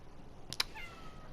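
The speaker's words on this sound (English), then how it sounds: "but that's my cat." A house cat lets out a short, quiet meow or two, faint and muffled as if from behind a closed door, over a low steady background hum.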